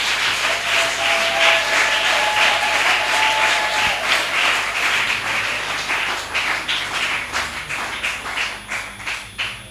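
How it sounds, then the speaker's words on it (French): An audience at a Christmas Sunday school ceremony claps loudly and steadily, dense applause that later thins into slower, more distinct rhythmic claps as it fades. "Que je demande d'acclamer très très fort."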